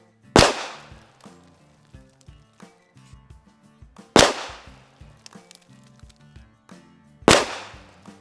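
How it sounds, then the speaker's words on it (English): Three sharp, loud pistol shots ring out at a range while a red dot sight is zeroed. Each crack is spaced a few seconds apart and leaves a short echo, with faint handling clicks between shots. "let's shoot it again"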